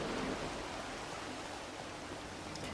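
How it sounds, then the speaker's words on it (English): Rain falling in the video game Disney Dreamlight Valley, a steady, even hiss that holds at one level throughout with no talk over it. "As usual, it's raining."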